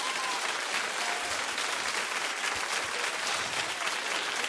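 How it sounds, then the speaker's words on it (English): A television studio audience claps steadily and loudly from start to finish, forming a dense, sustained wash of applause with no voices standing out. "Keep clapping."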